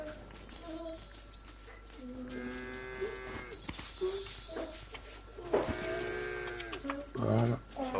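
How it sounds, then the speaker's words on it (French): Cows in a video game moo repeatedly, with several long, drawn-out calls close by, one after another, and some faint talk in the background. "Et du coup, je vais caresser les vaches."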